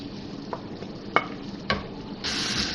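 Spices being stirred into mashed tomatoes frying in a karahi for beef keema, a low steady sizzle with a few sharp spoon scrapes against the pan, then a brighter burst of frying near the end.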